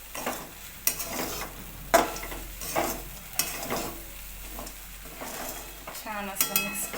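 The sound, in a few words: stirring potatoes into poha in a pan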